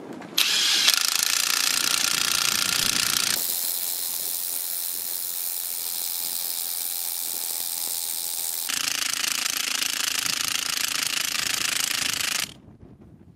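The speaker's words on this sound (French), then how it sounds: "Je vais faire un petit test pour voir le courant de décharge avec la clé à choc." A Parkside cordless impact wrench on a Parkside Performance smart battery hammers loudly in two long bursts with a quieter whirring stretch between, close up, then cuts off abruptly.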